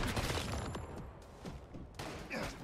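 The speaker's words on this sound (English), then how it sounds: "Oh, I just got sniped in the shoulder." A sniper rifle shot in the video game Once Human cracks amid a busy spray of gunfire, with several sharp reports and thumps stacking up close in a dense, continuous firefight.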